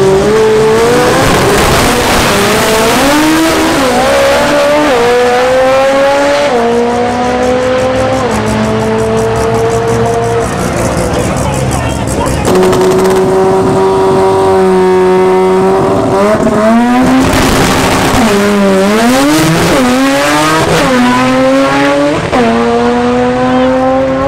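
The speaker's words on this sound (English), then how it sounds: "there's some drag race events, so we're walking over here to check it out and see what's going on" Cars at a drag racing event, loud engines revving and climbing through gears in repeated sweeping bursts, with a constant roar and the odd tyre squeal close by.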